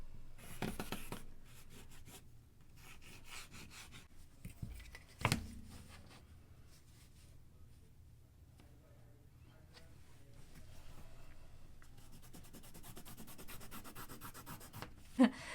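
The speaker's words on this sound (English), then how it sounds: "I'm going to connect that dot to where those snips are." A pen drawing lines across fabric while sewing darts for a color-blocked top, heard as faint, intermittent scratchy rubbing strokes close by, with a couple of sharper handling knocks and no talking.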